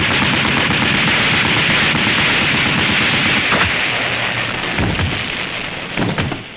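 A loud, unbroken burst of machine-gun fire comes from the GP7 vehicle in the Japanese Spiderman series, a dense rattling stream that thins a little toward the end, with a few heavier thuds.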